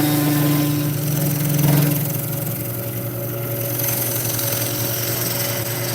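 A wood lathe hums steadily with a strong motor drone while a modified spindle gouge cuts a spinning wood piece above center. The scraping cut swells briefly and then settles into a continuous loud whir.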